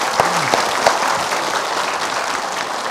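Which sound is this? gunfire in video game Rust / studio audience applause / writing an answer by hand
studio audience applause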